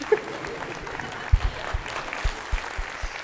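Audience applause from a studio crowd, a short burst of scattered, fairly sparse clapping under a faint background murmur.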